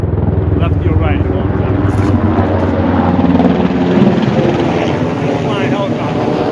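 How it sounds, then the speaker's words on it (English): A helicopter flies nearby, its loud, continuous rotor thrum and engine drone steady throughout, with a person talking over it. "Flying helicopter."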